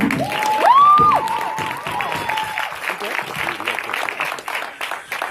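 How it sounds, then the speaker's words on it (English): Congregation clapping in praise at a Sunday church service, a fairly loud burst of applause that swells early, then thins into scattered claps with a raised voice calling over it. "Can you please join me in giving God a loud hand clap of praise?"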